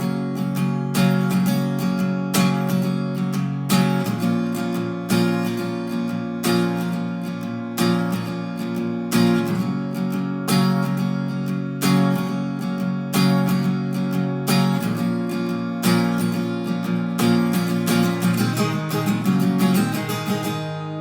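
Acoustic guitar strums the interlude of a song, steady rhythmic chords with sharp regular attacks, close and clear, no voice throughout.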